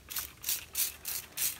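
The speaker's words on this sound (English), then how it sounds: "first I'm gonna spray the vinegar" A handheld spray bottle of vinegar misting onto a glass door or window to loosen duct tape residue, five quick hissing squirts in an even rhythm, close and fairly loud, with no talking.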